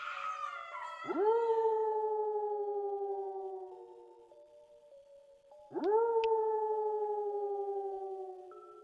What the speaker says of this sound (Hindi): कुत्तों के साथ में एक ऐसी आवाज आ रही है जैसे कोई औरत नहीं रोती हाँ दर्द से, वैसे